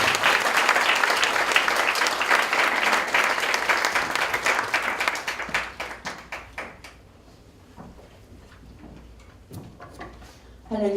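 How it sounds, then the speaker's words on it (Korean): A church congregation at a 12th anniversary service claps loudly and densely, then the applause thins to scattered claps and fades, with a few voices heard near the end. "박수 한 번 더 크게 쳐주시기 바랍니다"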